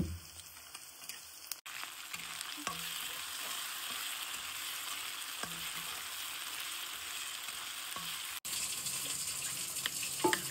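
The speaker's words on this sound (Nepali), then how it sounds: "प्याज हाल्दैछु है, प्याजलाई मजाले रातो बनाउनु पर्छ" Sliced onions fry in a hot pan, giving a steady crackling sizzle with occasional sharp pops and stirring clicks, fairly close and with no voices.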